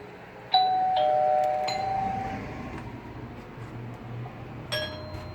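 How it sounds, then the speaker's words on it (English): An Amcrest AD110 Wi-Fi video doorbell triggers a mechanical chime: a clear ding that rings out and fades, followed a few seconds later by a softer dong, over a low background hum. "that's the reason why you hear a ding and it takes a while to do a dong"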